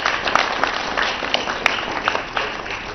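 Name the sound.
audience applause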